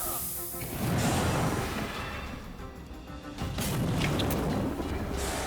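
Fire attacks blow enemies apart in Wartales, with heavy rumbling booms and crackling bursts rolling in two waves, loud and close with no talking.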